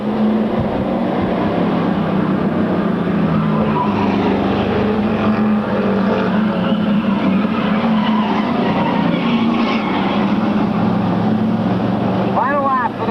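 Stock cars race around an oval track, their engines forming a continuous loud roar with a pitch that swells and fades as they pass, beneath an announcer's steady commentary.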